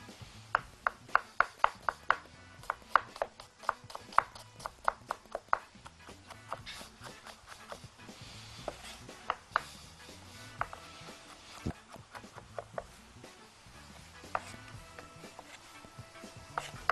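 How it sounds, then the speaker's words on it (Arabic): Knife chopping an onion on a board in a kitchen, a run of sharp, close taps in quick bursts with pauses between them, sounding alone with no talk. "اجيب عندي بصلايه افرمها"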